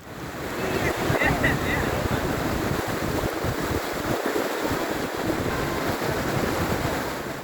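Steady, loud roar of the monsoon-flooded Shetrunji River in Gujarat rushing, with gusting wind noise buffeting the microphone throughout.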